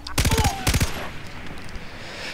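Rapid machine-gun bursts from a weapon in the video game Far Cry 3, two loud rattling volleys in quick succession, then a fading echo and low background ambience.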